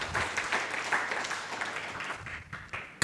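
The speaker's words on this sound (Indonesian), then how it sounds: "Berikan tepuk tangan meriah buat Tuhan kita." A church congregation at an online worship service applauds in a brief, lively burst that gradually thins and fades, heard from some distance.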